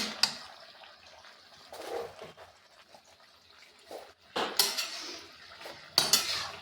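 Cauliflower stalk sabzi being stirred in a pot, with scraping and clattering spoon-on-metal bursts in short clusters separated by quieter gaps, close and fairly loud, no talk.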